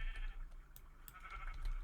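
Sheep bleating in an automatic wool farm in a video game, a few short soft bleats scattered over a quiet background, faint and close.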